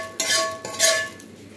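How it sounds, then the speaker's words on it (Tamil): Metal spoon scraping and clinking in a pot of ven pongal rice being stirred, two distinct scraping strokes close up with a short pause between, no talking. "கொஞ்சம் ரைஸ் எடுத்து பொங்கல் எடுத்து போட்டு கிண்டி விட்டுங்க."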